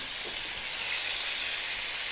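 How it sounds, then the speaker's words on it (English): A Dover sole fries in a hot pan, giving a steady, close sizzle with a broad hiss that holds at an even level for about two seconds and has no voices over it. "We want to hear a little bit of a sizzle because we're frying."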